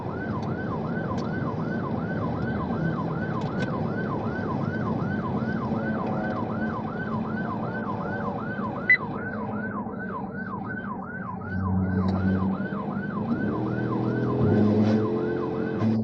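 A wailing police patrol car siren cycles rapidly over and over on a highway during a pursuit, loud and close, with engine and road noise underneath.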